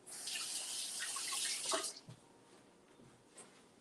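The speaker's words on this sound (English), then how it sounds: "Let me just wash my hands 1 second." A tap runs while hands are washed, a close hissing stream for about two seconds that then cuts off, leaving faint drips and light handling noise.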